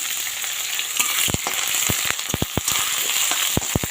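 Onions frying in oil in a wok after dried red chillies and nigella seeds, a loud, close hiss with many sharp crackles and pops scattered throughout, no talking.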